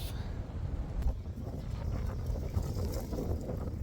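Gusty wind buffets the microphone outdoors among trees in Utah with a low rumbling roar, steady and fairly loud throughout.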